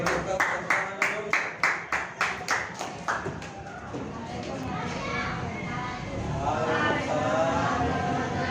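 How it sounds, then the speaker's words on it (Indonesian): A primary-school student group gets rhythmic clapping at first, evenly spaced claps that fade into looser applause and chatter from a room full of children. "Oke, beri tepuk tangan dulu."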